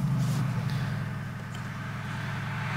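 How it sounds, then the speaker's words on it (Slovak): Cupra Formentor or Ateca engine starting, with a low steady idle rumble that fills the whole short stretch, loudest at the start and settling slightly, close by with no talk. "Čiže štartuje motor"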